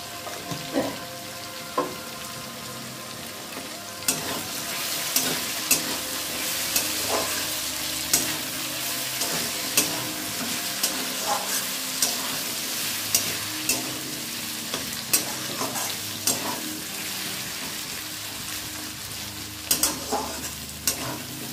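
Potato and onion frying with turmeric in a pan, giving a continuous close sizzle broken by regular scraping stirs and occasional spoon taps against the pan.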